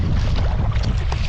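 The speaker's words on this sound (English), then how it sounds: "Wind is about force 3, gusting 4, directly on my side." Steady wind of force 3 gusting 4 roaring across open sea off the Mull of Kintyre, heard from a sea kayak as loud, constant buffeting noise.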